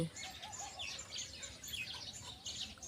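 Small twittering and chirping calls from pigeons sitting on eggs in a nesting setup, with a hand-made nest alongside, faint and fairly continuous over low background noise.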